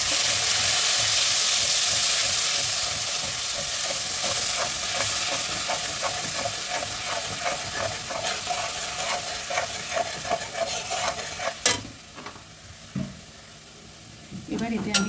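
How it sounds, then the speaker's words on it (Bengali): Ginger paste sizzles loudly in hot oil with stirring scrapes, then the frying quiets as water goes in and the sizzle breaks into softer, uneven bursts. "আদাটাকে একটু তেলের মধ্যে ফ্রাই করে নিয়ে একটু জল দিয়ে দেবো।"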